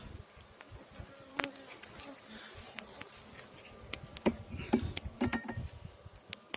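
Honeybees buzz around a hive that has been queenless for forty days, a close, continuous droning hum with scattered louder passes of individual bees nearby.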